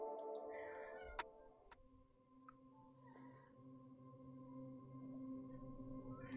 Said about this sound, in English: There is a cat trying to climb on me.